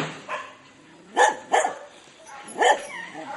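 Rescued dogs at an animal rescue in the Philippines bark in short separate bursts, three or four loud barks spaced apart over a quiet background.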